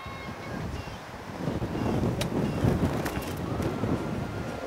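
Steady wind buffeting the microphone in a low, gusty roar on a golf course, with faint distant voices and a few brief clicks.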